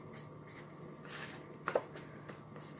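Marker or chalk writing on a backing sheet during a chalk-stencil craft project, heard as faint, soft scratchy strokes with a couple of brief louder scrapes near the middle, alone in a quiet room.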